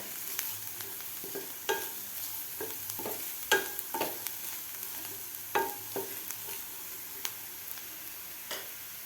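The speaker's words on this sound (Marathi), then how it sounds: "आता आपल्याला मसाले या कांद्यामध्ये व्यवस्थित परतून घ्यायचे आहेत" Chopped onions sautéed with chaat masala, coriander powder and Kashmiri red chilli powder, a soft, low sizzle under repeated clicking and tapping spatula stirs against the pan, with no voices.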